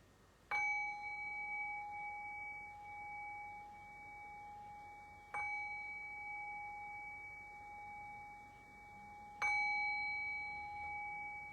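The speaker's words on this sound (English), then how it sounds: "I'll cue that by ringing the meditation bell 3 times." A meditation bell struck three times at even, widely spaced intervals, each clear ringing tone sustaining and slowly fading into quiet before the next strike.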